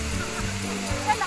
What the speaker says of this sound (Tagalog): huwag na huwag niyong kakalimutan ang Tumalog Falls